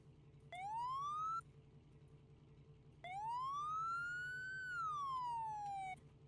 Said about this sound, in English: Oh, we got some sirens here